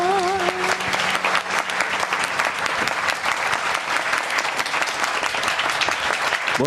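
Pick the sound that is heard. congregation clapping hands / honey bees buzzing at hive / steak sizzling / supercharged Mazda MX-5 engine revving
congregation clapping hands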